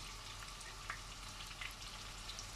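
Chicken adobo, Ilocano style, frying and being stirred in a pan, a faint steady sizzle with occasional soft scrapes and stirring sounds.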